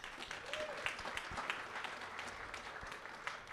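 Another round of audience applause at the finale of the Calgary Investment Summit: a fairly faint, steady patter of many hands from a room-sized crowd, with a few sharper claps poking through.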